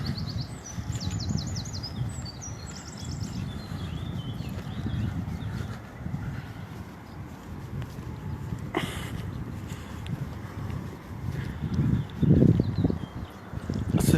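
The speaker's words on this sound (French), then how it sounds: "On entend les oiseaux qui chantent, c'est agréable." Birds sing outdoors near the Moselle river around Remiremont on a mild spring day, with faint high chirps and trills over a constant low outdoor rumble.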